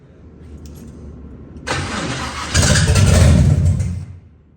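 A big block engine in a Squarebody C10 truck cranks briefly, then catches and runs with a loud, rough rumble before cutting off, close by with no talking.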